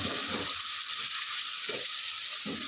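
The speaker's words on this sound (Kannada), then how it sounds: "ಇದು ಫುಲ್ಲು ಹಸಿ ವಾಸನೆ ಹೋಗೋವರೆಗೂ ಚೆನ್ನಾಗಿ ಫ್ರೈ ಮಾಡ್ಕೋಬೇಕು ನಾವು" Ground spices with ginger and garlic paste frying in a pan for a hotel-style fish curry, a steady loud sizzle throughout with a few soft low stirring thumps, no talking.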